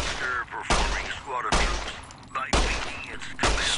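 Pistol gunshots in Fallout: New Vegas, four loud, sharp shots spaced about a second apart, each ringing out briefly before the next.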